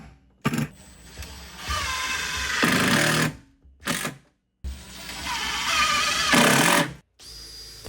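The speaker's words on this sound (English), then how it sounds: "And then I just need to screw these in to secure the shelf." A power driver sinks screws to secure a shelf in a small workshop, giving several whirring bursts of a few seconds each separated by brief pauses, loud and close.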